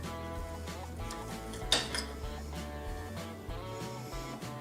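A knife slicing through a jalapeno pizza popper stuffed with grilled jalapeno, sauce, cheese, pepperoni and bacon, giving a few soft close scrapes and a sharper clink against the plate, with steady background music throughout.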